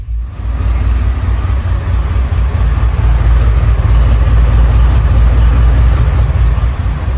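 A 1989 Chevy C1500 pickup idles steadily after an Edelbrock 1405 carburetor rebuild, its engine a loud, continuous low rumble with a slight lopey pulse and no talking.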